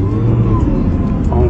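A new car's engine hums low and steady from inside the cabin as it begins to roll away, with a faint voice over it.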